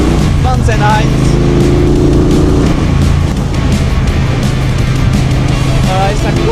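A Triumph Bobber motorcycle with a Mountain Heights exhaust rumbles loud and close on a winding mountain road in Thailand, the engine note rising and falling under wind and a voice speaking over it.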